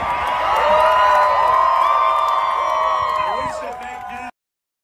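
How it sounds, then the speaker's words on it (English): Huge political rally crowd roaring and cheering continuously, a dense loud wash of voices that swells and then fades slightly before cutting off abruptly. "This is a big, big, beautiful crowd."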